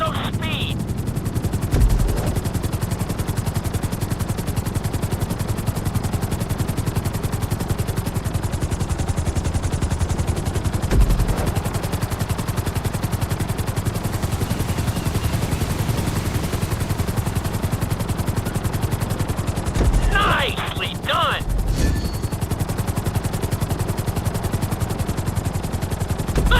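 Helicopter flying in GTA V, a steady continuous rotor and engine drone throughout, with brief bursts of other game sounds near the start and toward the end.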